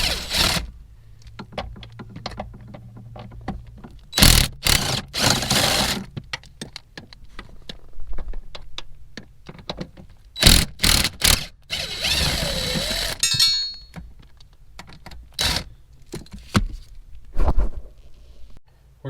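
Ratchet on a long extension working 10 mm bolts on an F-body steering column: bursts of rapid clicking separated by short pauses, with occasional metallic clinks and scrapes close by.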